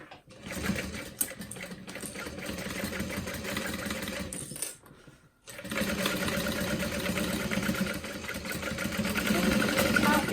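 A sewing machine runs steadily while back stitching a Swoon Charlotte City Tote with piping, its motor hum continuous apart from a short pause about halfway through.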